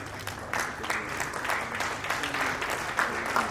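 Audience at an entrepreneurship business conclave breaking into sustained applause, a dense steady clapping from a sizeable crowd throughout, with a voice speaking faintly underneath.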